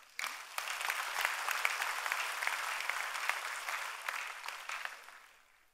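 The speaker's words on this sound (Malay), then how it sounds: "Tepuk tangan kuat-kuat." Loud, sustained applause from a crowd at an UMNO political gathering, many hands clapping in a dense rush that swells quickly, holds steady, then tapers off.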